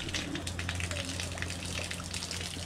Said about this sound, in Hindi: अब दूसरे टैंक में पानी भरते हैं